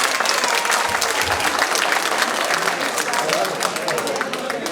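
An audience bursts into loud, sustained applause at a Deepavali and Rajyotsava celebration, many hands clapping densely and steadily throughout with a faint murmur of the crowd beneath.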